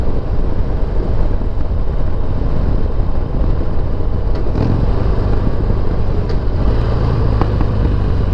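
A Harley Davidson XL883L Superlow motorcycle is ridden, its engine rumbling steadily under loud, constant wind and road roar that stays at the same level throughout.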